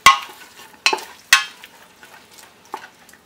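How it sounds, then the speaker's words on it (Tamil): Onions fry in oil without salt for a Chennai-style chicken biryani. Three sharp spatula clacks against the pot stand out over a faint, quiet sizzle, with one softer knock near the end. "உப்பு எதுவும் சேர்க்காம தான் வந்து இந்த வெங்காயத்தை வந்து நம்ம எண்ணெயில் வதக்கணும்"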